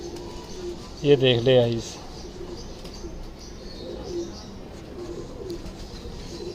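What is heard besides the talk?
Ferozpuri pigeon cooing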